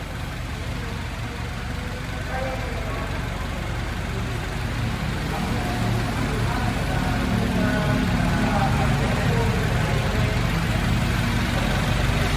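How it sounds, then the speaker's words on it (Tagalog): A car engine idles after a Totachi engine flush, giving a steady, loud, low rumble that runs unbroken and alone throughout. "Narinig nyo yung naka-flash out yung makina natin."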